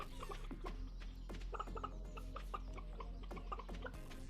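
Chickens in the Stardew Valley farming game cluck in soft, repeated bursts, several birds overlapping at a low, steady level with no talking.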